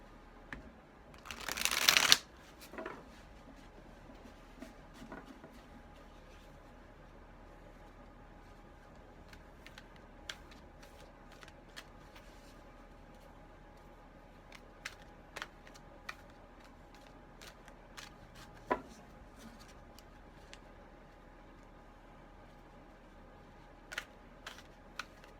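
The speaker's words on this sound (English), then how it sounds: "I shuffle as long as I'm guided to do so." Tarot cards shuffled in one short, loud riffling burst near the start, followed by a long quiet stretch of faint, scattered clicks and taps from the deck being handled.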